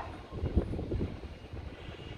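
Steady low rumbling buffets the microphone at an airport, a continuous strong wind roar with gusty swells and no voices.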